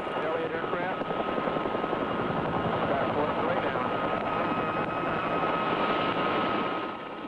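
A helicopter's rotor drones steadily and loudly throughout, a thick whirring hum, with a muffled voice faintly audible beneath it.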